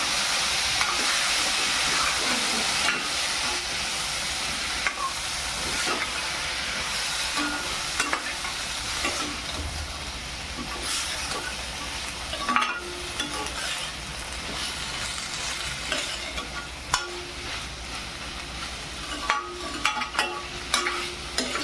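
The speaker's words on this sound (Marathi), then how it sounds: "हा गाजर कापून घेतलाय बटाटा कापून घेतलाय व्यवस्थित आपल्याला याला ढवळून घ्यायचं आहे" A spatula stirs carrots, potatoes and green beans in a pan, scraping steadily and continuously over a soft sizzle, close and even for the whole stretch with short sharper scrapes throughout.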